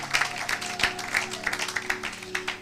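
A church congregation claps in a steady, brisk rhythm during a Sunday service, with sharp overlapping hand claps over sustained organ or keyboard chords.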